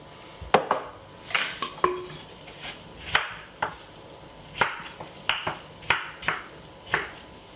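A small knife chops melon on a cutting board for a smoothie. Crisp, close knocks land in an uneven rhythm, about a dozen separate cuts with short pauses between, and no talking.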